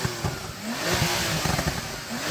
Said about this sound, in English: Maybe now you can rev up your car.